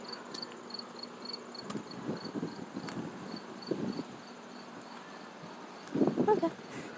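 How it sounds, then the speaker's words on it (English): Crickets chirp outdoors on a windy day in a faint, steady repeating trill, with soft rustling and a few low thumps and bursts of noise around it. "Listen, you can hear crickets."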